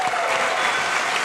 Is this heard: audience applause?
yes